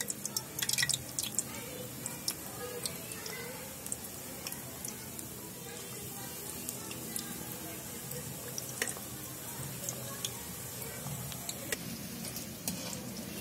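Pakoras fry in hot oil for a Punjabi kadhi pakora in a village kitchen, giving a continuous bubbling sizzle with scattered sharp drips and pops and a faint voice now and then.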